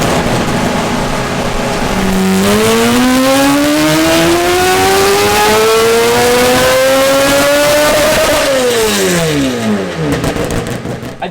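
A Toyota Supra engine on a dyno pull, tuned toward a race-car sound, roars loud and close, its pitch climbing steadily through the revs before dropping sharply as the throttle lifts, with no talking.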